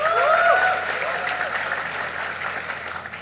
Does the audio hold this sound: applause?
yes